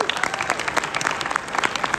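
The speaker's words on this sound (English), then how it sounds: "a round of applause for you" Crowd at the closing ceremony of Anime Milwaukee 2022 gives a round of applause, brisk overlapping hand claps from a modest audience, fairly close and continuous.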